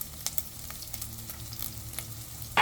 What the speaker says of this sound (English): We need to render pork fat until most of oil extracted from the fat and the pork fat become crispy.